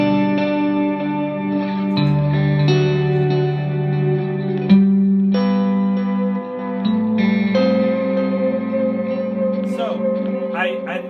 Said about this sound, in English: That's a crazy reverb.